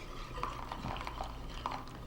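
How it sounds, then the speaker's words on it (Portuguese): Custard cream being stirred in a pot for a Hungarian torte, a soft continuous scraping and swishing with faint clinks of the utensil against the pot, steady and close throughout. "Vou misturando todo esse creme."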